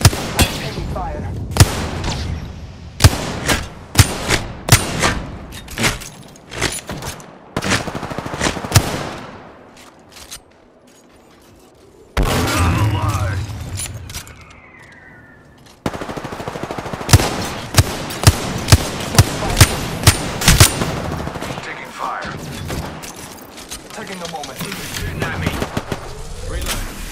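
Heavy gunfire in the Apex Legends video game, repeated loud bursts and single shots in clusters with a brief lull in the middle, a voice speaking over parts of it.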